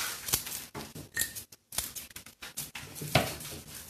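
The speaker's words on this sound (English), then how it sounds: "Then I can come back and trim his little hair a little bit" Scissors snip repeatedly at the straw-like hair of a ceramic gourd scarecrow, a close series of crisp irregular cuts and rustles with brief pauses between snips.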